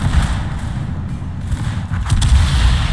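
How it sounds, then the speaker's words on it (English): Eight-inch guns on the battleship Illinois fire in a naval video game, giving deep, rumbling booms and thuds that roll into each other, loud and close, with no talking. "so you've got 8-inch guns on a battleship"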